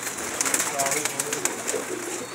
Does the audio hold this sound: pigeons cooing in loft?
yes